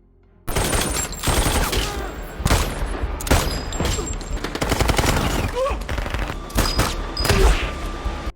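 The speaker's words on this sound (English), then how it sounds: "engaging in a fierce firefight with Axel's men, who persist in their attempts to bomb them" Sustained automatic gunfire in a Mile 22 movie firefight, with rapid bursts and individual shots crackling almost continuously, loud and close, plus scattered brief impacts and ricochets.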